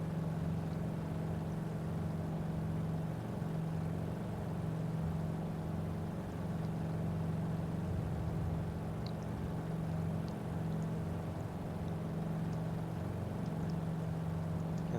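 Radial-engine drone of a Carenado WACO YMF-5 biplane taking off in a flight simulator game, a steady, continuous low hum holding level throughout with no talk.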